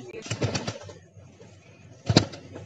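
Pigeon chicks in a home loft: two short bursts of wing flapping and rustling close by, separated by a quiet pause, with a low cooing murmur underneath.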